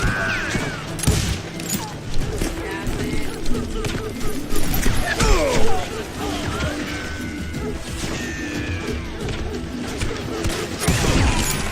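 Rapid cover gunfire in the Wild West shooter Call of Juarez Gunslinger, a dense run of loud cracking shots and crashing impacts with whooshes, steady across the stretch with a voice under the clatter.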